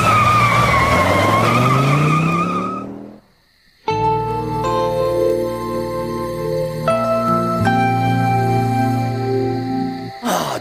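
A cartoon sports car screeches through a long tire skid, then, after a brief pause, a loud tonal engine revs and drives on with shifting pitch.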